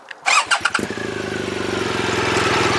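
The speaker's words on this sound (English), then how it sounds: "So I shall start the engine again." A motorcycle engine cranks a few times, then fires up and settles into a steady, throbbing idle close by.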